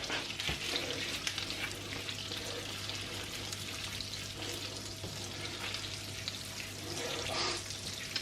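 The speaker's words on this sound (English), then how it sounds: "we cook this butter through so it just about starts to brown" Butter and garlic cook in a pan as the butter browns, producing a dense, continuous sizzle and crackle close up, with a faint watery bubbling underneath and no talking.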